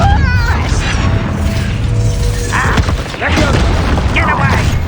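Confringo blasting spell explosions from the video game Hogwarts Legacy, heavy booms and crashing bursts mixed with battle mechanisms and game music, with spell-casting voices heard between the blasts.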